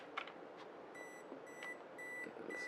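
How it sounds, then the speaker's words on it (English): An Olympus XA2 compact camera's self-timer gives four short, evenly spaced electronic beeps, faint and close, with a few soft handling clicks between them. "You can just listen to it beep"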